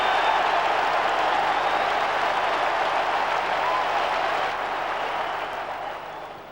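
A big football crowd of about 35,500 at Goodison Park roaring and applauding after an Everton goal, a dense, steady wash of noise that slowly fades.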